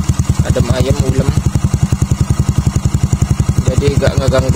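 Close, steady Yamaha Mio Smile motorcycle aftermarket exhaust idle with an even, rapid low-pitched putter, mellow and unchanging throughout.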